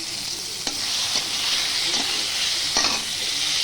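Turmeric and nigella seeds fry in hot oil for a fish curry with potato, a steady loud sizzle throughout, broken by a few sharp stirring scrapes of a spoon in the pan.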